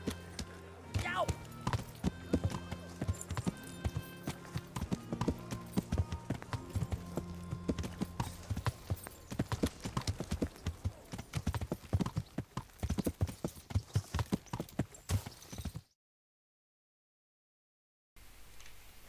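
Horse hooves gallop in the medieval video game Kingdom Come: Deliverance, a fast, loud, steady clip-clop run lasting about fifteen seconds, with game speech over it, then silence and faint ambience.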